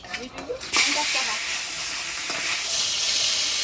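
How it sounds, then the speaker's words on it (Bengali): A katla fish head frying in hot oil gives a steady, loud broadband sizzle and hiss. It kicks in sharply after a brief quieter start and holds evenly to the end. "এবার মাছের মুড়োটা আগে ভাজে নিব।"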